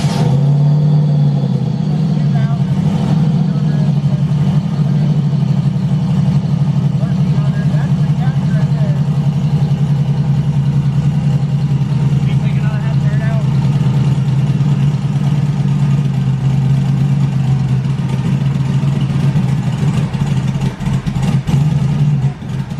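A Mustang with a turbocharged LS engine swap and Holley EFI idles loud and close in a steady, rumbling drone that wavers in pitch as it surges, while people talk over it.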